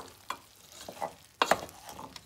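Brown stew chicken with allspice powder is stirred in a pot, giving a few soft scrapes and clinks over a faint sizzle, close and quiet.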